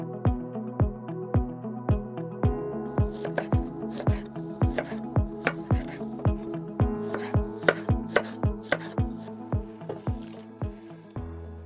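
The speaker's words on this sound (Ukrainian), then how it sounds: "А Айву ріжу на маленькі, як вам подобається, на маленькі шматочки." Quince is cut into small pieces for jam: a knife chops a board in a quick, even rhythm of crisp, close thuds, roughly two or three per second, with no voices.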